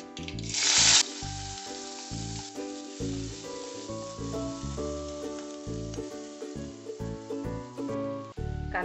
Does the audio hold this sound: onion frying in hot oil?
yes